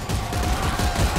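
Dense, rapid gunfire in the video game Dead Space 3 rattles continuously for about a second. It is loud and close, with no talk over it.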